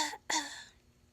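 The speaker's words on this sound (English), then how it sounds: "So while I'm bent over, I'm coughing." A man in a prison coughing hard while bent over during a search, two short harsh bursts close to the microphone, the second louder and trailing off.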